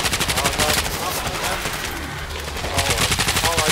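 Continuous rapid gunfire pours into a zombie horde in World War Z horde mode XL on the Rome map, dense overlapping shots and bursts that stay loud throughout, with voices faintly mixed underneath.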